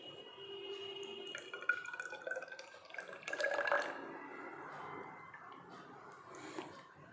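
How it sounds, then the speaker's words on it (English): A solid object lowered into water on a spring balance during a school physics experiment, giving soft sloshing, dripping and splashing that peaks midway, faint and close with no talking. "I am immersing this object in water."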